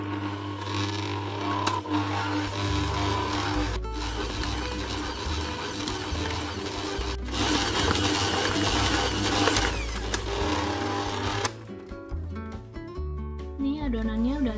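An electric stand mixer kneads soft, slightly sticky milky bread dough with a steady mechanical whirring and rattling motor drone, close and continuous, with a few thumps and a brief change in pitch near the end.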